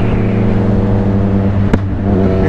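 A motorcycle engine runs loud and close with a steady, throbbing hum that rises slightly in a rev, and a brief sharp click near the end.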